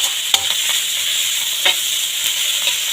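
Shredded cabbage stir-fried over high heat for village-style noodles gives a steady close sizzle, broken by a few sharp scrapes of a spatula against the pan.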